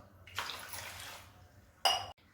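Water is poured over millet in a kitchen vessel for rinsing, a close splashing pour followed by a quieter swishing, then a second short, louder pour before it stops, with no talking.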